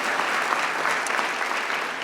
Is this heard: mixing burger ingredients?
no